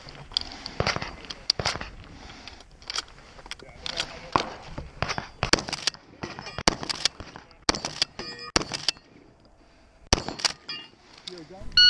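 Ithaca 37 pump shotgun fired at a shooting match, a string of sharp reports spaced across the stretch with clicks and shuffling handling sounds between shots, heard at a distance without talk.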